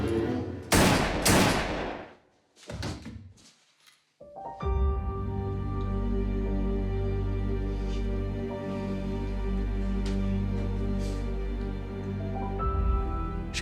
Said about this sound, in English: She put 2 bullets in the back of her head without giving it a second thought.